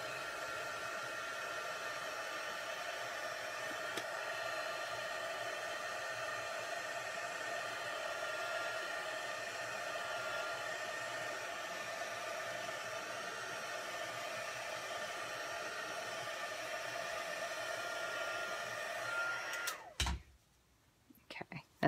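A hair dryer blows a steady, even rushing hiss over watercolor ink on paper, running continuously at close range for about twenty seconds before cutting off abruptly near the end.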